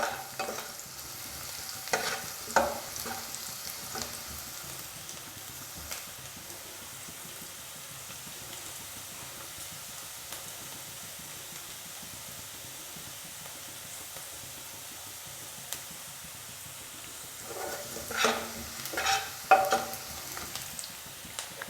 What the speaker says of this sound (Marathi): पूर्ण लालसर आपल्याला परतून घ्यायचा आहे कांदा।